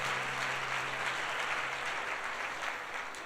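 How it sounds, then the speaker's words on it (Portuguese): Audience applause at a Portuguese-language prophetic church service, a steady wash of many hands clapping, fairly distant and even throughout, no voices over it. "dê um aplauso ao Senhor"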